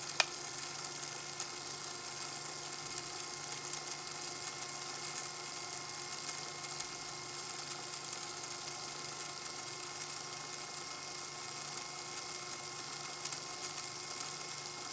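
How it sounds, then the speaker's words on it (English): Small electric motor spinning in a lab, a steady high-pitched whirring hum that stays even and constant from start to finish, with no speech. "I'm going to plug in my power source here. Wait for the motor to spin."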